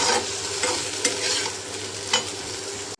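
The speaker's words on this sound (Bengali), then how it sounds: "আমার সয়াবিনের আলু টালু সব ভাজা কমপ্লিট" Potatoes with soybean chunks fry in oil while a spatula stirs them, giving a steady loud sizzle broken by a few scraping strokes against the pan.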